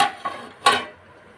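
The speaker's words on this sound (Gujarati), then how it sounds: "હલાવી નાખીએ એટલે મરચું ભળી જાય" Spoon stirring a spiced tindora (ivy gourd) and potato curry in a home-kitchen pot, a few short scraping strokes, close and fairly soft, with no talking.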